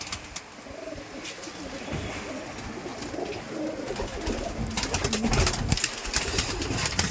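Soft, low coos of Giribaz pigeons at a pigeon farm repeat through the clip amid steady background noise, with rustling and scuffling growing louder in the second half.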